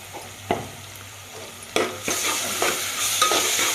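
Ginger garlic paste sizzles with browned onions in a hot pan, a steady frying hiss broken by several sharp scraping stirs that grow louder toward the end.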